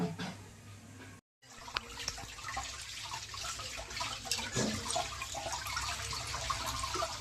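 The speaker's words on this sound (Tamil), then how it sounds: "நல்லா கை விட்டு இப்படி பிணைஞ்சு கழுவுனா போயிடும்." Running water rinses a boti, a traditional floor-mounted kitchen cutting blade, after cleaning, splashing and trickling steadily and close by with no talk.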